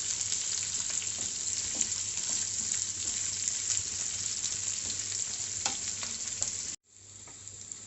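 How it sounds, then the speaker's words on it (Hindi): Onion, ginger and garlic sizzle and crackle steadily in a hot pan with occasional stirring scrapes; the frying continues quieter after a brief cut, with no talking. "अब इसे अच्छे से भूनना है गोल्डन ब्राउन होने तक।"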